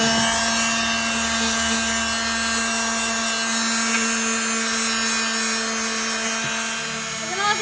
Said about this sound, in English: now we're going to be moving into the sanding process